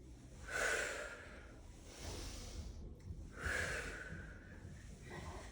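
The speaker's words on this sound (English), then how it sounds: "I'm breathing through the effort of moving." Heavy breaths during a mat-based core rotation exercise come close and rhythmic, with three strong exhalations pushed out in turn and quieter breathing in between.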